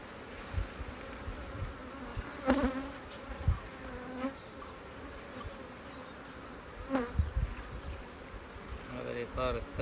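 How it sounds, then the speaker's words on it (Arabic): Honeybees buzz steadily around an open hive during an inspection, a close, continuous drone with sharper passes as individual bees fly near, and someone speaks intermittently over it. "شراسة النحل."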